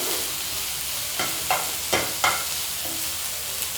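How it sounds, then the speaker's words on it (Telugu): Tomato pieces fry in a hot pan with a steady, bright sizzle. A few short scraping strokes of stirring punctuate it, and no voices are heard. "నెక్స్ట్ నేను టొమాటోని వేస్తున్నాను."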